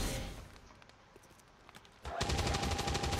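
Suppression gunfire in XCOM 2, heard as a quieter lead-in with a few sharp shots, then a loud sustained burst of rapid automatic fire that keeps going to the end.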